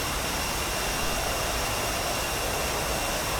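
Steady, loud jet engine roar of an L-39C trainer aircraft in the DCS flight simulator, a continuous broadband whine and rush with no breaks, heard alone.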